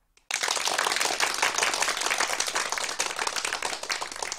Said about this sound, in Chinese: 你们热烈鼓掌，这个掌是可以鼓的